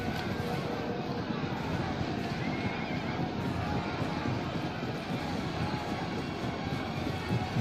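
Horses neigh and whinny amid a dense, constant battle din with a roaring rumble underneath, steady and loud throughout, in a Total War: Rome II battle between Parthia and Arverni.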